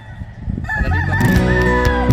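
A Paul Spark Grey gamecock crows loudly and close by, one long drawn-out call with a steady pitch, over a low rumble of background noise.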